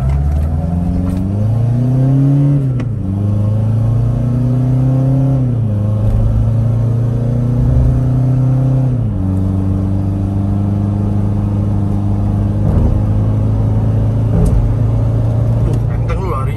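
A remapped Toyota Fortuner engine revs up repeatedly in steady rising pulls, loud and close, with the pitch climbing then dropping between bursts.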